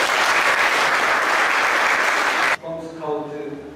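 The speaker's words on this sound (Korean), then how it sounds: "회장님께 우리 감사의 박수 한번 주시기 바랍니다." Loud, dense applause from a Boy Scout gathering for the chairman at a summer festival, steady for about two and a half seconds before cutting off abruptly, followed by someone speaking.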